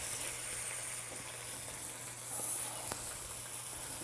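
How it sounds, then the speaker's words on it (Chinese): Fish laid into a hot pan over a high gas flame gives a steady, even frying sizzle, a close, continuous hiss with a faint low hum beneath and no voices. "来，我们就把鱼放下来。"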